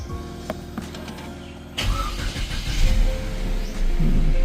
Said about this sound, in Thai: เราเข้ามาในรถเราสามารถเยียบเบรกแล้วก็ สตาร์ทได้เลย